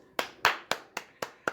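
Hands clap six times in an even, fairly quick rhythm, close and crisp, with nothing else heard.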